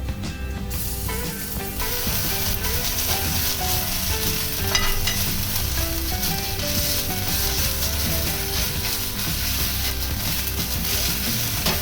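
Loud, steady sizzling of ginger-garlic paste frying in a hot pan, with stirring scrapes throughout and no talking.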